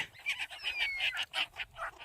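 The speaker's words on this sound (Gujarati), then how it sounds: "આ ઓસ્ટ્રેલિયન કાગડા છે." Australian crows call near a seaside temple setting, a string of quick harsh repeated caws, moderately close but fairly soft, with no voices over them.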